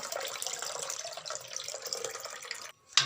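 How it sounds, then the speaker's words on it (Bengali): Water pours steadily into a rice flour mixture for palo pitha, a close continuous splashing stream that stops abruptly near the end, followed by a brief clatter. "আমি এর মধ্যে আরও একটু জল দিয়ে দেবো"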